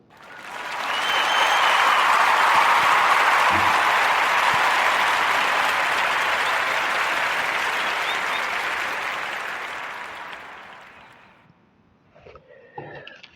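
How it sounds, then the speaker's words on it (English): A large audience bursts into sustained applause that swells quickly, holds loud and even for about ten seconds, then fades out, leaving a few faint scattered sounds at the end. "we're going to give a warm narrative round of applause for Deshauna and the Southern Candle Company"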